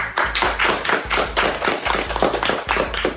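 A few people clap in a small room after placings are announced in a student cooking contest, sharp close claps in quick bursts with thumping low taps underneath.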